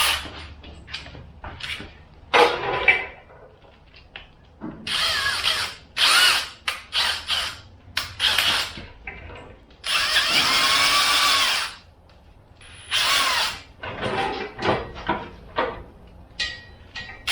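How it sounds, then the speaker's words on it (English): Bursts of a power drill whirring in a garage during work on a chromoly flywheel and twin plate clutch for a Jeep WJ Grand Cherokee, several short and longer runs with clanks and tool handling between them, close and loud. "There's my drill."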